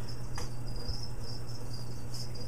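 A small feeder cricket being offered to a Colombian tarantula gives a steady, fairly faint high chirp that repeats without a break. Soft background noise and a low hum run underneath, and no one speaks.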